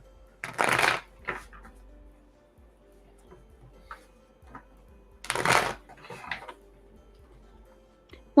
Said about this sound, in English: I'm going to pull 3 cards for you.